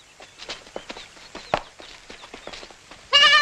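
A lamb meant as bait for a tiger hunt lets out one loud, close bleat at the very end, after a stretch of scattered footsteps and hoof-like clopping on a rural track.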